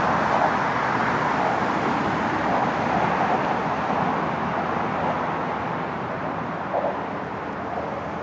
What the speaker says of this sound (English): It's very noisy from the cars.